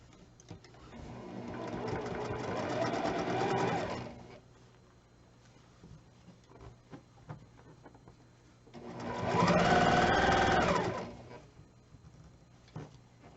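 A sewing machine stitches a triangle pillow in two bursts, each a close, rapid mechanical whir that speeds up and then stops, separated by a quiet pause.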